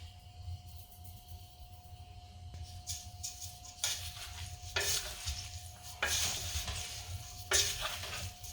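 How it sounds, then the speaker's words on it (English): A spice mix being stirred into homemade chili in a pot on a stove over medium heat, with a quiet sizzle and several bursts of spoon scraping that grow louder toward the end. "back to the stove, back on medium heat. And now we're adding in the spice mix."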